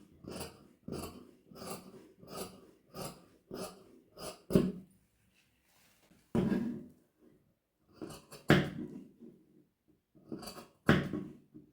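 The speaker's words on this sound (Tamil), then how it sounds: "இப்போ வந்து நம்ம இதை கட் பண்ணி எடுத்துடலாம்." Tailor's scissors cut through cloth for a Patiala pant, a run of regular close snips followed by a pause and a few louder, scattered cuts and handling noises.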